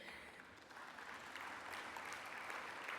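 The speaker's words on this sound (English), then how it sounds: "That's our president clapping because it's the council in which she works." Dense, steady applause from a large audience fills the hall at the 2023 Trades Union Congress, holding at an even level for the whole three seconds with no talk over it.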